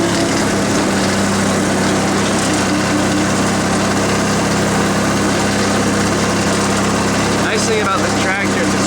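An old Yardman lawn tractor's engine runs steadily and loudly up close, a continuous low mechanical drone, with a voice briefly speaking near the end.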